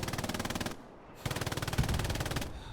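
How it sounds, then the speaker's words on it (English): Machine gun fire rattles in a video game match during an e-sport tournament, two rapid bursts of evenly spaced shots separated by a brief pause, fairly loud with no talk. "Just hearing how close that MG is."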